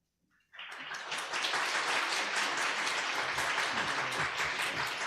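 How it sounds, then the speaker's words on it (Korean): A church congregation bursts into sustained applause in a large worship hall after a brief quiet start, the dense clapping holding steady and loud to the end with no talk over it. "여러분 박수로 영접해 주시면 감사하겠습니다."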